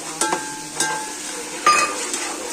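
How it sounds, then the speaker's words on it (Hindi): Garlic and green chillies frying in a pan for a masala chicken dish, a steady close sizzle with occasional stirring scrapes and light metallic clinks. "और ये मसाला भुन रहा है, वो हरी मिर्च और लहसुन।"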